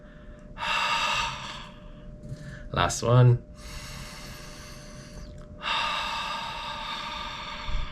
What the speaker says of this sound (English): I'd like you to take a deep breath.